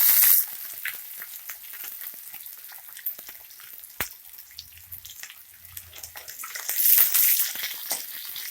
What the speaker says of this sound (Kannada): ನೋಡಿ, ಇದೇ ಎಣ್ಣೆಗೆ ಜಜ್ಜಿರೋ ಬೆಳ್ಳುಳ್ಳಿ ಹಾಕ್ಕೊಳ್ಳಿ.